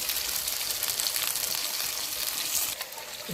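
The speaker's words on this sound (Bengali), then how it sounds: "আলুগুলোটা ভেজে নেবো।" Potatoes fry in hot oil for a jackfruit curry, giving a steady, close, dense sizzle and crackle that holds at an even level throughout with no voices.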